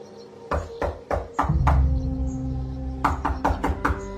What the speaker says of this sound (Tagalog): pumasok kami at nang makalapit sa bahay, kumatok si Captain Gilbert.